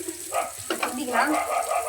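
Onions tipped into hot oil in a pan while cooking pizza toppings, giving a steady, close sizzle with a brief burst as they land and soft stirring scrapes throughout.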